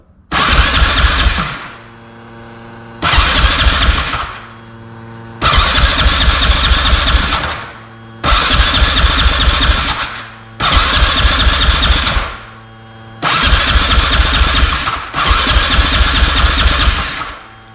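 A Husqvarna SMR510 supermoto engine cranked on its electric starter during a compression test, with seven loud, even bursts of rapid starter chugging about two seconds each, separated by short pauses and never catching.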